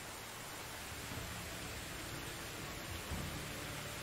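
Steady hiss of rain falls in the video game Medieval Dynasty, an even wash of noise with a faint low rumble near the end, no speech.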